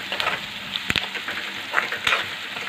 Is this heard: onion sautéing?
yes